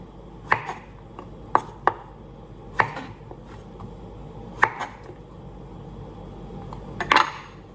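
A knife slices mushrooms against a cutting board in sharp, irregular strikes, close up, with short pauses between cuts and a quiet background.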